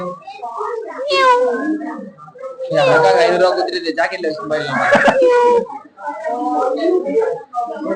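A cat meows several times, its drawn-out, wavering cries fairly close, mixed with voices talking nearby.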